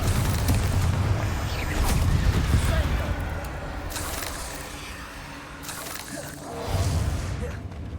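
Spell blasts from the Hogwarts Legacy video game boom in repeated bursts, several explosive impacts with crackling debris and mechanical clatter, fairly loud game audio.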